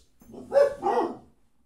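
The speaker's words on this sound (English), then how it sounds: "We had FedEx pull in the driveway and our dogs went completely mental." Dogs bark loudly and close by, two sharp barks in quick succession, triggered by a FedEx delivery truck pulling into a home driveway.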